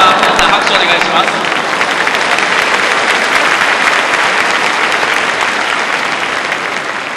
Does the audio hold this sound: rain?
no